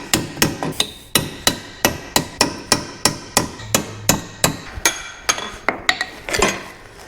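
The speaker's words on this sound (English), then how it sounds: "Then once we score it, we can come in with a chisel." A hammer strikes a chisel driven into a scored bushing on a Land Rover LR4, about two dozen sharp metallic blows in a steady, fast rhythm, close and loud, with no voices.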